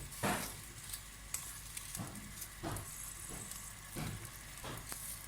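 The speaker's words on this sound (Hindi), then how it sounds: "इसमें मैं 2 मीडियम साइज़ के टमाटर डाल रही हूँ।" Tomatoes drop into potatoes frying in a pan for aloo matar pulao, a soft continuous sizzle broken by several sharp stirring scrapes and clatters at regular intervals, with no talking.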